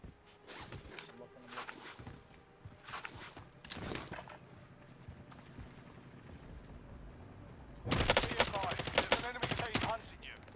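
Bursts of gunfire from the Call of Duty Warzone video game, with scattered shots early on and a denser rapid volley near the end, mostly faint against quiet game ambience.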